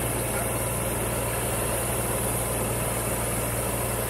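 A motorbike engine idles with an even, steady rumble and a broadband hum, close and constant throughout with no voices.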